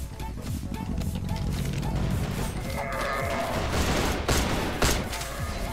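Loud, dense automatic fire from an AK-47 rifle in the CrossFire shooter game, a sustained rattling burst with sharp cracks near the end, up close and filling the whole stretch.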